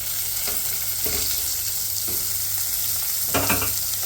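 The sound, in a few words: tomato frying in a pan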